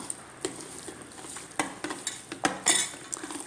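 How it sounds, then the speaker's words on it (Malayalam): Chicken pieces being stirred and mixed with chili powder and turmeric in a kitchen, soft scraping and clinking of a utensil in quick irregular strokes, close and fairly quiet. "മുളക് പൊടി ഇത് നല്ലവണ്ണം മിക്സ് ചെയ്തെടുക്കണം"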